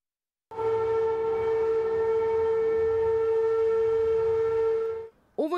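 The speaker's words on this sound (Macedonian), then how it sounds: "Овој звук од сирени што одекнувал низ Македонија е од 80-тите години" An archival recording of a civil defense siren sounding across Macedonia in the 1980s, a steady sustained wailing tone held for several seconds before cutting off abruptly, followed by a brief rising sweep.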